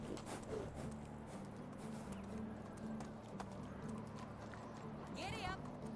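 Horse hooves clip-clop steadily in the medieval life-sim Medieval Dynasty, a fairly quiet, regular walking rhythm under a low steady hum, with a voice speaking over it.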